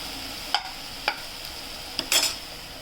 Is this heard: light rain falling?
no